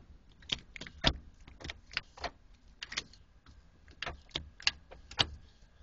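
A Hurst Pro5.0 short shifter in a T56 manual transmission clicks and clunks through repeated gear changes, a series of sharp close mechanical knocks spaced about half a second apart in a quiet car interior.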